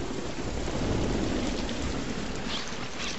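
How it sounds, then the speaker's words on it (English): Dense, steady rain pours with a deep thunder rumble underneath during a lightning storm in The Last of Us video game, loud and continuous throughout with no voices. "There's lightning."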